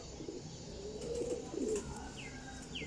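A flock of Teddy Golden flying pigeons gives soft, rolling coos that swell in the middle, near the listener, with a couple of faint higher chirps late on and no talking.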